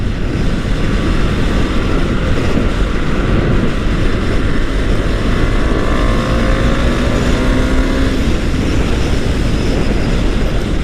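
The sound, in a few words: motorbike riding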